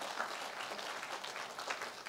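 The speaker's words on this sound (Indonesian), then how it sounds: "Boleh berikan tepuk tangan bagi Tuhan kita" Applause from a church congregation during a sermon, a steady, moderately distant wash of many hands clapping that holds evenly for about two seconds with no break.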